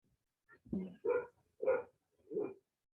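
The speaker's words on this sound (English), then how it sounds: "There's a dog somewhere. He's woofing." A dog woofs four times at a steady pace, the barks fairly faint and somewhat distant, with short silences between them and no talking over them.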